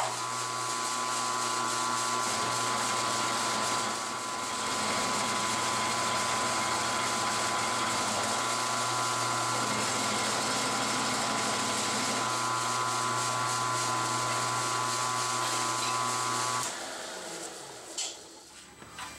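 A machine tool takes a light cut flattening the end of a tool holder, a steady grinding, whirring mechanical drone with a sustained tonal whine that runs for most of the time, then cuts out near the end, followed by a few clanks.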